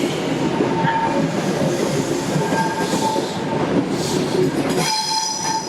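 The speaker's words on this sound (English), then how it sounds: "The train now approaching platform 4 does not stop here." A train passes through a British station without stopping, close and loud, with continuous wheel roar, clattering over rail joints and brief high squeals near the end.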